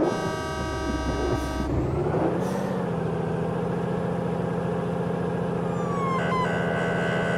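A heavy truck hauling military vehicles drives in the game Truck Simulator Ultimate, its engine droning steadily and loudly throughout, shifting pitch as it changes gear, with a couple of brief tones near the end.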